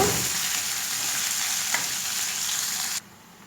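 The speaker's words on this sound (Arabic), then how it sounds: "الزيت من الزيت بتاع البصل، هنزل بالرز اهو" Rice tipped into hot oil left from frying onions, a steady loud sizzle with stirring scrapes that stops abruptly near the end, leaving quiet background.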